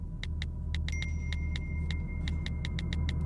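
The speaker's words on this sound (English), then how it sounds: "Nice texting noise." A texting sound effect in a song: a regular run of short, bright ticks like phone keypresses, repeating steadily over a low, rumbling musical backdrop.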